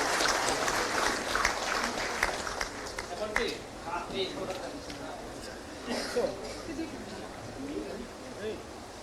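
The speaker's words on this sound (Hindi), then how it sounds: "जोरदार तालियों के साथ स्वागत करें माननीय मंत्री महोदय का।" Scattered applause from an audience in a hall welcoming a minister at the launch of the Jharkhand Sports Policy 2022 and a players' honour ceremony, uneven claps mixed with crowd murmur and a voice speaking over them.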